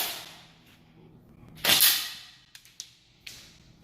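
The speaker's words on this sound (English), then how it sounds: "Let's do a little test shot right here." A G&G SSG1 airsoft rifle fires a single sharp test shot at close range, followed a moment later by a few light ticks and snaps.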